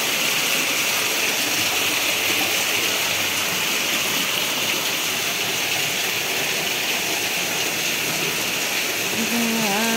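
Steady rain falls continuously and loudly, a dense even hiss with no breaks throughout, with no talk present.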